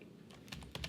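Typing on a computer keyboard while entering a database query, a quick run of four or five crisp close key clicks, alone with no talk.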